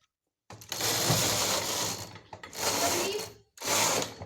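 A punch card knitting machine carriage rattles and clatters across the needle bed while a cardigan is knitted, in three sustained passes separated by short pauses, close and fairly loud.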